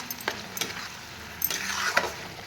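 Onion, tomato and masala fry in a pan for an Odisha-style chicken kasa, a soft sizzle broken by scraping stirs and clinks of a spatula at irregular intervals, close by with no talking.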